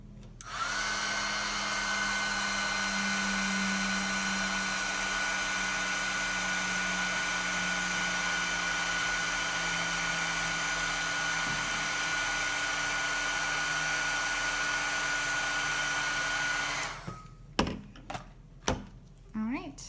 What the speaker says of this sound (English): I'm going to emboss this with my heating tool